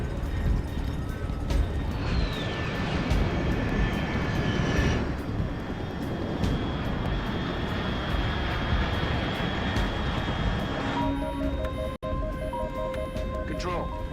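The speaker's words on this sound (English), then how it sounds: "Unidentified aircraft detected." A fixed-wing aircraft drones steadily in Metal Gear Solid 3 Delta, a sustained engine hum with tonal whine under radio-style talk, ending with beeping electronic tones.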